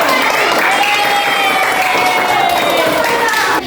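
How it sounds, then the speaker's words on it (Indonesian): A classroom of children claps in loud, dense applause that holds steady for a few seconds, with some voices mixed in. "Tepuk tangan dulu untuk yang perempuan."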